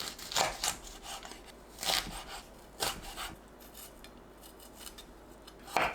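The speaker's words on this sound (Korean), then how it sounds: "청양고추와 홍고추는 길게 4등분하고 씨를 제거합니다" A knife slices green cheongyang and red chili peppers lengthwise into quarters on a cutting board, giving a handful of sharp, separate cuts and knocks with quiet scraping between them.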